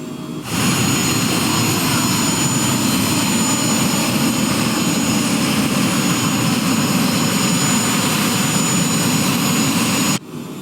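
A light aircraft's engine drones in a steady, loud, unbroken roar heard from inside the cabin, with no clear change in pitch.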